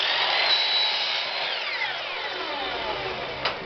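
A power saw cuts through several stacked wood pieces at once for a small box, giving a continuous whining, buzzing cut close by that winds down with a small knock at the end.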